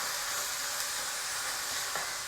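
Onion and green chilli sautéing in a pan for paneer bhurji over medium heat, a steady loud sizzle and hiss of frying with faint stirring, no voices.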